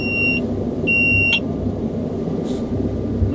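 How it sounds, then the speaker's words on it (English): A GPS guidance alert beeps twice inside a combine harvester cab while harvesting soybeans, two short high tones cutting over the steady loud engine rumble. "That's an alarm to wake you up."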